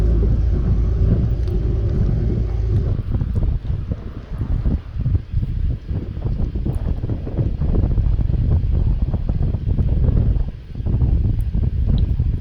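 Strong crosswind roars and buffets the microphone while cycling on a road from Nairobi, Kenya toward Moshi, Tanzania, a loud continuous rumble with gusty surges and brief lulls.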